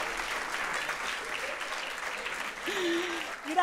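A stand-up comedy audience applauds in a steady, dense burst of clapping that carries on for several seconds, with a voice starting to come through near the end.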